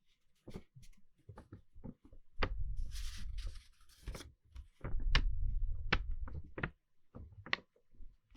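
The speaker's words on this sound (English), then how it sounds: "Another sound that I like is just plain old rustling pages of paper, like if you're writing in a journal." Paper pages rustle and a pen scratches in a journal, close and intimate, in soft irregular bursts of rubbing and brushing with quiet gaps between them, and no voice over the sounds.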